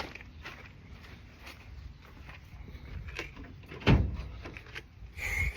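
A latch clicks shut on a JDM car body part in a shop, one sharp near click standing out over low background noise, with a second thump toward the end.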